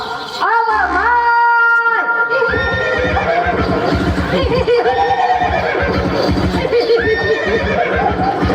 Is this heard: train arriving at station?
no